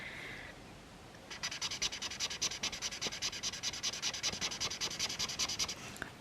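An alcohol marker's chisel tip colours on paper in quick back-and-forth strokes, making a steady rhythmic scratching rub that stays close and faint and comes after a brief pause.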